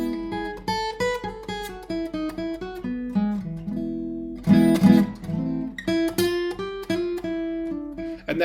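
Close, loud guitar runs through a scale using a minor sixth, plucked single notes rising and falling with a strummed chord burst midway, then more picked notes, no talk.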